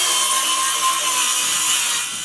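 A loud, steady whining rasp of a power saw cutting a wooden board in half for bookcase sides, bright and harsh, lasting a couple of seconds.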